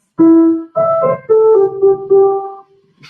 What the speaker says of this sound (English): And the right hand without the crescendo would sound like this